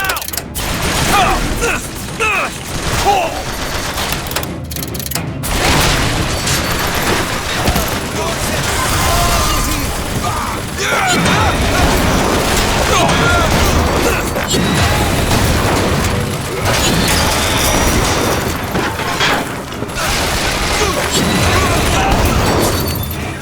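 A turret in the combat of BioShock Infinite fires in rapid clattering mechanical bursts, loud and close amid dense battle noise, with shouted game voices mixed in throughout.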